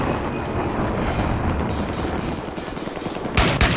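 Rapid automatic shotgun hip fire from a support-class weapon in the video game Battlefield 3, a dense continuous stream of loud blasts, growing sharper and louder near the end.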